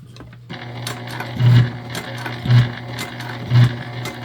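Sewing machine stitching a fabric gift bag slowly around a curve, a close steady mechanical hum with three louder bursts of rapid stitching about a second apart and small clicks between.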